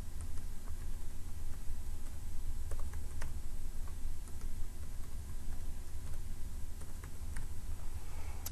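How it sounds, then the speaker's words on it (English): Computer keyboard being typed on to enter a password and user ID, scattered soft key clicks in an uneven rhythm over a steady low background hum, close and fairly quiet. "So I'll type in my password and user ID."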